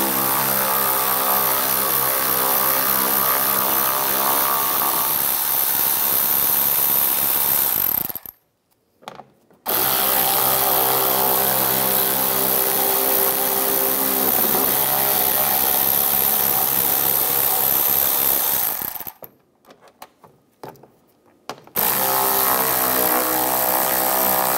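Power tool running almost continuously to remove three bolts with an 8 mm socket under the front of a 2011-2019 Ford Explorer, a loud steady whir with two brief pauses, no talk.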